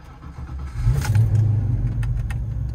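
A car engine, set up with nitrous and parked outdoors at 19 degrees, cranks and catches, then settles into a steady, loud, close idle rumble.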